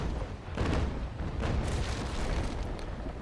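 Naval Action sailing-ship broadside: rolling, overlapping cannon booms that rumble close and heavy for a few seconds, a dense low barrage without speech.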